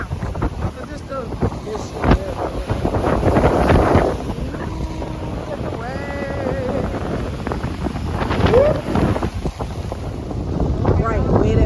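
Gusty wind outdoors at a beach blows steadily across the microphone as a constant rumble, with voices talking and brief background sounds scattered through.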